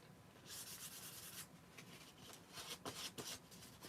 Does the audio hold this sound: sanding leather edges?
yes